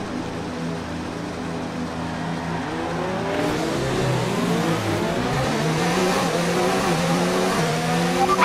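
An F1 2019 racing car engine on a practice start idles low and steady, then revs hard and climbs through rising, stepping pitch sweeps as it accelerates, loud and close with no talking.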